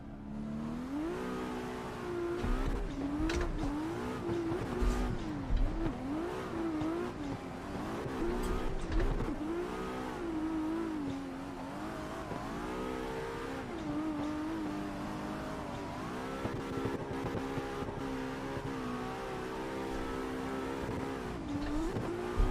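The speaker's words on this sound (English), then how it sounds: "Just a chill drift session." A race car drifts in a sim racing game, its engine revving high and wavering through long slides. Tire squeal runs almost continuously over about twenty seconds at moderate, steady loudness.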